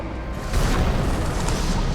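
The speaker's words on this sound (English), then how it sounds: "And then this exploded." A deep, rumbling explosion from the video game Nobody Wants To Die, a sustained loud boom with broad roaring noise that swells after half a second and holds, with no speech over it.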